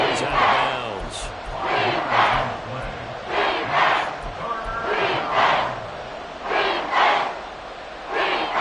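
Stadium crowd in a Madden football video game roaring and cheering ahead of a big third down, loud swelling waves of massed voices rising and falling in repeated bursts.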